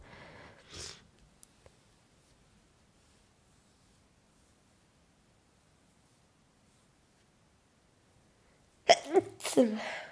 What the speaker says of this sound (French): j'ai une crise, on dirait, d'éternuement